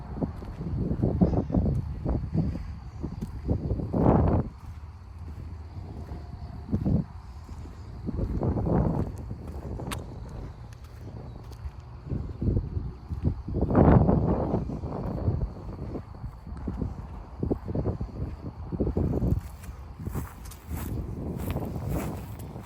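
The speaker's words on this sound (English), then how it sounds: "the wind is rough" Strong, rough wind gusting across an outdoor cemetery beside a house, with rumbling buffets against the microphone rising and falling in waves over about twenty seconds, loud and close throughout.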